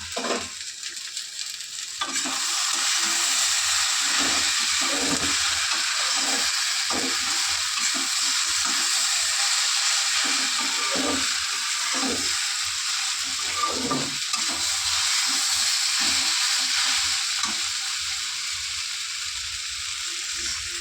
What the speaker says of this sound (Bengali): ওর জন্য আমি একটু ঢেকে ঢেকেই ভাজাটা করে নিচ্ছি।